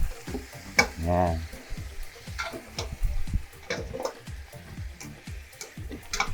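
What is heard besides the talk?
pork leg sautéing in a pan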